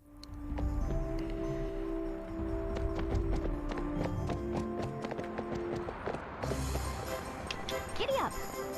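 Galloping horse hooves in the Barbie Horse Adventure: Wild Horse Rescue video game, a quick, continuous clip-clop rhythm with a brief whinny near the end, under game music.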